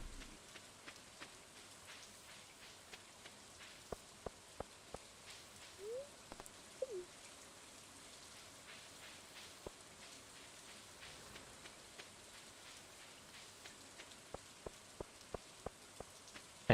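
Rain falls in the Stardew Valley farming game, a soft, steady patter with scattered sharp drip clicks, faint and low, with no voices over it.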